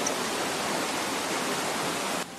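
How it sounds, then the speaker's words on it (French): A waterfall in the Caribbean, Martinique or Guadeloupe, roars as a steady, dense broadband rush for the whole stretch, loud and close, with no voices and a slight drop at the very end. "De la cascade."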